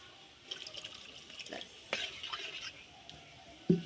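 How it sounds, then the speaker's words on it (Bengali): Water is poured in a small amount into a simmering banana and potato curry, a soft trickle and splash close by with faint clinks of a pot, over steady background noise. "এবার অল্প করে জল দিয়ে দেবো"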